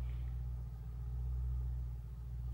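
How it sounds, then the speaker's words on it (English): A neighbor's very loud car engine idles with a steady, deep rumble that holds constant throughout, with no voices and no revving. "My neighbor's car is literally the most obnoxious car in the world. It's so loud."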